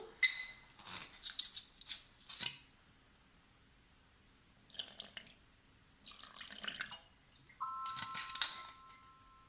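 About 40 g of water poured into a bowl on a kitchen scale, heard as short bursts of splashing and trickling separated by quiet pauses, with a few small clinks and a faint electronic beep near the end.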